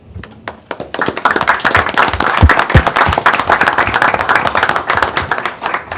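Council chamber applause at a city council meeting in Fergus Falls, honouring departing city employees: after a few sharp claps, the room breaks into loud, close, sustained clapping that runs to the end.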